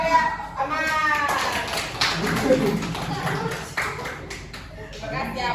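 A classroom of children claps for a classmate, scattered uneven applause mixed with kids' chatter and a teacher's voice, the claps fairly light and near.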